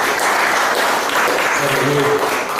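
Audience at a Mauritius Post launch ceremony giving loud, sustained applause, a thick continuous roar of clapping with faint voices mixed in.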